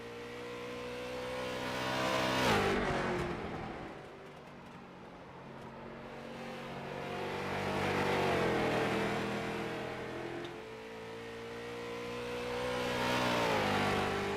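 A race car laps a short track during practice, engine revving up and fading as it passes in repeated waves, moderately distant and steady, no talking.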